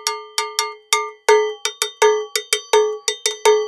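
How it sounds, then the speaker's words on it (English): A small cowbell from a world percussion set is struck with a small stick, giving about fifteen loud, bright, close metallic clanks in an uneven rhythm. Each hit rings briefly, and nothing else is heard. "So that's your cowbell that comes in this set"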